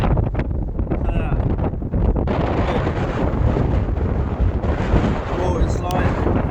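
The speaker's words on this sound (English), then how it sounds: "can you hear how windy it is?" Strong wind blowing on a beach batters the microphone, making a loud, continuous roaring rumble. Voices can be heard faintly beneath it.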